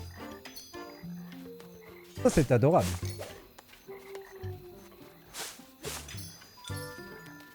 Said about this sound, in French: Les marais sont un peu lugubres la nuit. Mais le chant des grenouilles, une vraie symphonie.